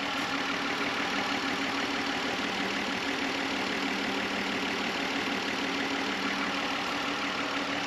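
A Honda Legend V6 idles with a steady, even hum that holds without change throughout, no voices present.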